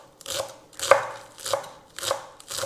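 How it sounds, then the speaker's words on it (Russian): Green onion and parsley being finely chopped with a knife on a board: five or six crisp, evenly spaced blade strikes, close and fairly quiet, with no voices. "Далее нам надо будет зелень нарезать на мелкие-мелкие кусочки"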